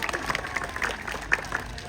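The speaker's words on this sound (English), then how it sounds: "Let's give a big round of applause, everyone." An audience applauding at a zoo sea lion show in Blackpool Zoo, a short burst of scattered, fairly light clapping from a crowd heard at a moderate distance.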